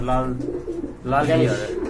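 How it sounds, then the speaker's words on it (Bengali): A pair of red Danish pigeons coo up close in two soft, throaty bursts separated by a short pause, with a human voice mingling in. "খুবই সুন্দর একটা পেয়ার কবুতর দেখতে পাচ্ছেন"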